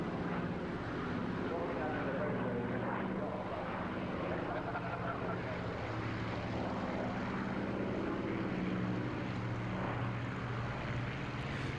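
A vintage Hawker Sea Fury piston fighter flies at an air show, its engine a steady, loud droning roar throughout while someone talks over it.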